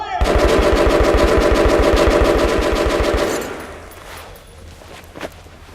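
Rapid machine gun bursts from Metro Last Light Redux, a steady close rattle of evenly spaced shots lasting about three seconds before cutting off, leaving quiet ambience and one faint later snap.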